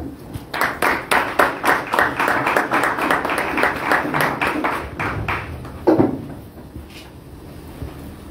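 A crowd at a scouting gathering welcomes the president of Scouts Africa with rhythmic, evenly spaced clapping in unison, close and fairly loud, ending with a thump and fading into murmur.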